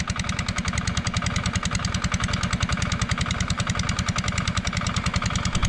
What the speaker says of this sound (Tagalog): dalawa na yung umaandar nating makina